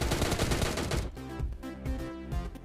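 M416 rifle firing in PUBG Mobile Lite: a dense, loud burst of rapid automatic shots for about a second, then a looser run of separate shots and short bursts, no talking.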